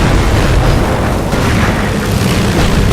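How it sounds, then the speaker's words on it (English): Loud, continuous explosive rumble and booming as a tank is destroyed in the Company of Heroes strategy game, dense battle noise filling the whole moment without pause. "Raise the Panzer and destroy an enemy tank."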